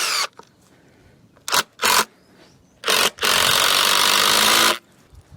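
A power driver screwing leftover wood offcuts onto a timber log store frame: a few short whirring bursts, then one longer, steady run of the driver, close and loud between quiet pauses.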